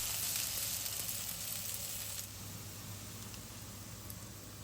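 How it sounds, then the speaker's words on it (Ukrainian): Constant crackling sizzle of pumpkin fritters frying in hot oil in a pan, steady and close, with a faint low hum underneath and no talking. "Після чого перевертаємо на другий бік. І знову смажимо декілька хвилин."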